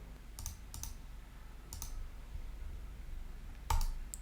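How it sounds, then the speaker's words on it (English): A computer mouse clicks while a zip file is uploaded for an AWS Lambda deployment: a few sharp, separate clicks spaced irregularly, with one louder click near the end, over a quiet room hum. "So click on that and then select your zip file to upload"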